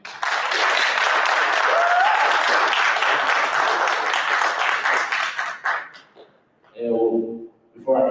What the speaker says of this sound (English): if we can give these two brothers a round of applause